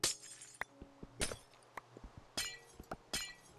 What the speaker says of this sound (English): One of the things about this game I really like is the sound of breaking glass.